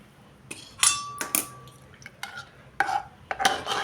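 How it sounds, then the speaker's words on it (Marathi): Hot water is poured into a pan of sautéed masoor lentils. Short splashing bursts mix with a few knocks of a utensil against the pan, close and fairly loud, with no voices. "आता ह्यामध्ये आपण गरम पाणी टाकून घेणार आहे"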